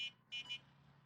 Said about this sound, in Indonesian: klakson. Awas hati-hati kaget nih.